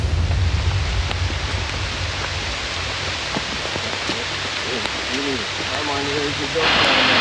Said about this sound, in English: So it's literally a torrential downpour that we're in.